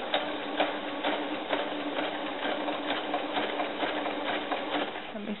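Sewing machine stitching a doll cover-up, a steady quiet rapid whirring and ticking run that continues evenly for several seconds with no talking.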